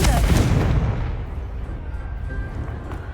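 A loud, close blast from the Confringo fire spell in Hogwarts Legacy bursts at the start, then rumbles and fades into a low, lingering roar.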